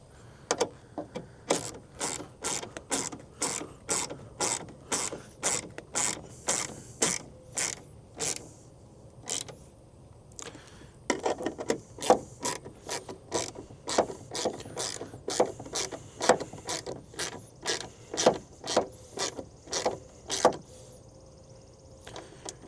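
A ratchet tightens the tail light bolts on a Ford F-150 with long runs of close, rapid clicks. The clicking pauses briefly between bursts and has no talking over it.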